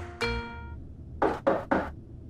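Three sharp, close knocks on a front door in quick succession follow a brief tonal chime, with quiet surroundings between the raps.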